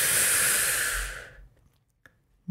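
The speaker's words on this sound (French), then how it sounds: "Et tu inspires profondément 3 fois." A deep breath drawn during a relaxation breathing exercise, a single long, close, airy inhale that fades out, followed by a faint click.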